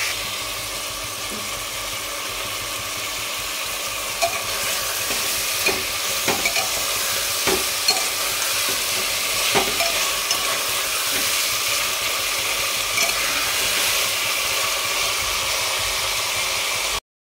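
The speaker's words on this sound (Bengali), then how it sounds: "চিকেনটা ততক্ষণ ভাজা ভাজা হোক" Chicken pieces with ginger and garlic fry in a pan with only a little oil and spice, a steady loud sizzle running throughout while a utensil stirs and scrapes in scattered clicks, with no talking.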